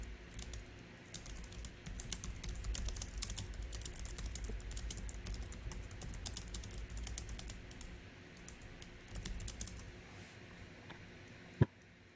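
Steady typing on a computer keyboard while entering a ChatGPT prompt, a continuous close patter of key clicks lasting throughout, with one sharper tap near the end before it stops.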